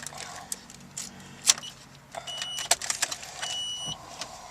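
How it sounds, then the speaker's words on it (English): A key slides into the ignition of a 1995 Nissan Maxima, giving close, light jingling and metallic clicks inside the car cabin, spread over a few seconds. "We're going to start with putting the key in the ignition."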